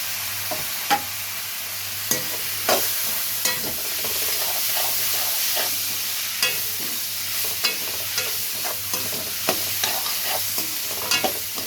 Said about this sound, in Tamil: நம்ம இதில் கட் பண்ணி வச்சுருக்க வெஜிடபிள்ஸும் சேர்த்து அப்படியே சேர்த்து வதக்கிக்கலாம்